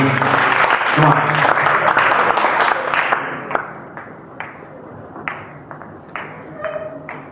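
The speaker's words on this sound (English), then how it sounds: "Let's have a big round of applause for our team." A big round of applause for a student entrepreneurship team on stage, loud dense clapping that thins out after about three seconds into scattered individual claps and taps with some crowd noise.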